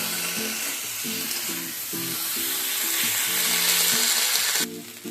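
Malabar spinach sizzles in a hot pan over low to medium heat as it is stir-fried, with steady crackling and hissing close by. A rhythmic scraping and stirring runs underneath, and the sizzle cuts off briefly near the end.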